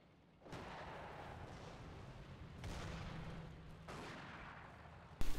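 Booming gunfire in a wartime strategy game between American and opposing forces, a few heavy rumbling blasts rolling through a low continuous din, with a sharp hit at the end.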